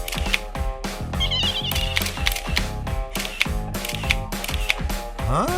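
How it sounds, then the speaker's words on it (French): Camera shutter clicks for a selfie, a fast steady run of crisp mechanical snaps over a humming backdrop, loud and close. "Qui veut un selfie avec Batman?"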